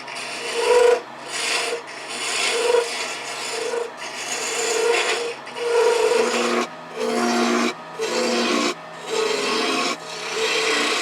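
A parting tool cuts wood on a lathe for a DIY bird feeder, producing loud rasping, scraping passes in repeated bursts with short gaps, close and steady.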